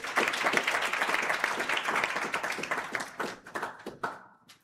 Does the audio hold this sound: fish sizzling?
no